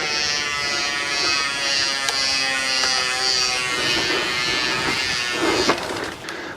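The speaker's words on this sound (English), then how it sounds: "Listen to that Chris King buzz." A Chris King rear hub on a Cannondale mountain bike freewheels with a loud, continuous high-pitched ratcheting buzz that holds steady, then trails off with a few clicks at the end.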